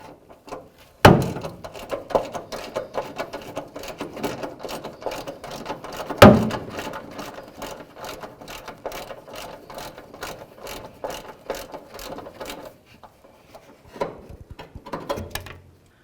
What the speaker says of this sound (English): Use a 10mm to remove this bolt that holds the ground wire on.